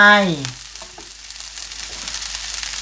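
Chinese sausage fried rice sizzling in a pan as it is stirred, a brief tonal sound at the start giving way to a steady close frying hiss.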